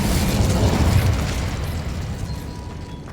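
An Incendio fire spell in Hogwarts Legacy bursts with a loud, close whoosh and rumble of flame that crackles then gradually fades, no voices over it.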